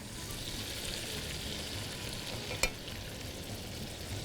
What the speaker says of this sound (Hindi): इसकी हो रही है भुनाई। भूनना है भाई इसको